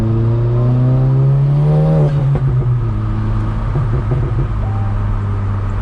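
A VW MK7 Golf turbo engine with an aftermarket intake pulls up in pitch under steady acceleration, heard from inside the car, then eases back into a lower steady drone with faint whooshing from the intake.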